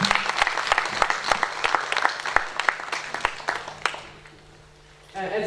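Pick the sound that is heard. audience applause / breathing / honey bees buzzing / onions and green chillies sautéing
audience applause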